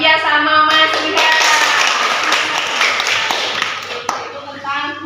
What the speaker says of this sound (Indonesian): Tepuk tangan untuk Mbak Fia sama Mas Iha.